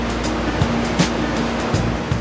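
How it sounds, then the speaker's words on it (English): Ocean waves break on the beach at Portrush, a steady roaring wash of surf with small surges, broad and continuous, with no voices. "And where you have waves, you will have surfers."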